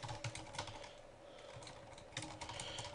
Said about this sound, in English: I was typing and apparently it's auto switched to this table